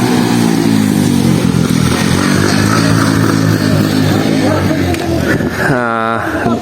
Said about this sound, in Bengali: এই যে একটা মোটরসাইকেল কীভাবে আসতেছে দেখেন